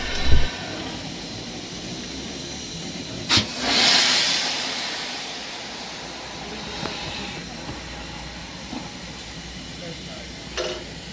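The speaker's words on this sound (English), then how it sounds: "I saw Braveheart clearing out the cylinders." Steam hisses out in a sudden burst as a steam locomotive, Braveheart, clears its cylinders, swelling and fading over a couple of seconds, over a steady rumble with scattered clanks at the Dartmouth Steam Railway.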